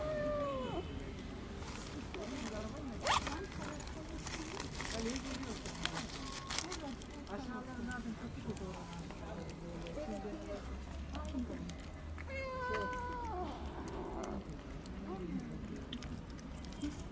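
A kitten in pain, rescued from a snowstorm, meows repeatedly in thin, high, rising-falling cries scattered across the clip, fairly close but quiet, over low background noise and faint voices.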